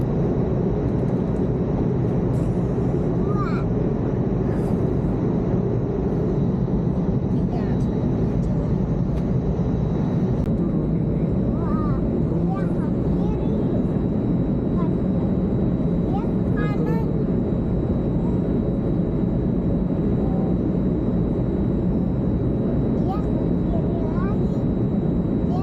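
Airplane cabin noise during landing and taxi on arrival at Penang International Airport: a steady, loud low rumble fills the whole stretch, with faint voices underneath.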